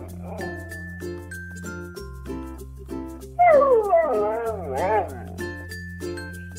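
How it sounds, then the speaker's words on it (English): A puppy whimpers and yips in a burst of high, wavering whines and yelps near the middle, roughly a second and a half long. A simple musical tune plays throughout, close and clear. "puppy."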